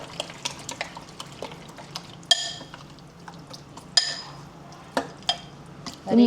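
Yogurt being stirred for raita in a kitchen bowl, soft wet mixing swirls punctuated by a few sharp spoon taps against the rim, close and fairly quiet.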